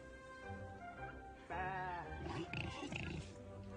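Sheep bleats in a barnyard scene, a wavering drawn-out cry rising in the middle, with a voice speaking over and around it.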